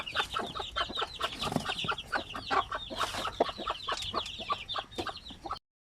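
One-month-old Basilan native chicks clucking and peeping in a dense, rapid flurry of short calls, many birds overlapping close by, with a brief louder squawk near the middle and no talk.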